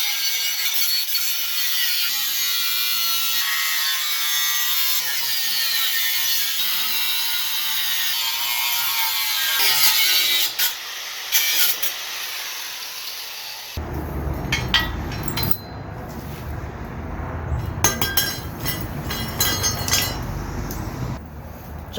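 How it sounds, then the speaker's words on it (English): An angle grinder cuts back a metal lip on a Subaru brake part, a harsh sustained grinding whine for about fourteen seconds that gives way to intermittent scraping and clanking bursts. "to do that, we're going to use the good old-fashioned angle grinder"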